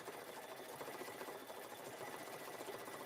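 A sewing machine stitching freestanding lace runs in a steady, continuous buzz of rapid needle strokes, close and even throughout with no talk over it.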